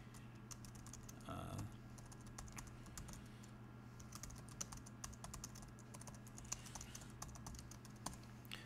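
Message typed on a computer keyboard, a rapid, quiet patter of key taps running throughout at close range over a low electrical hum.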